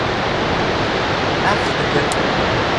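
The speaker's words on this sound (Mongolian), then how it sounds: "Энэ хүрхээнийх нь одоо ингээ унж байгаа ус байгаа шүү дээ" Falling water roars in a dense, steady rush, loud and close, with no break throughout.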